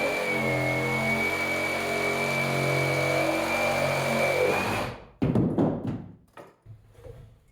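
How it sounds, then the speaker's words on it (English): A Sawzall reciprocating saw drives its thin blade tip around pre-drilled holes, a loud, steady motor buzz for about five seconds that cuts off into a few uneven scraping knocks. "I'm gonna try and use that thin tip of that Sawzall blade and then just work my way around each of the holes."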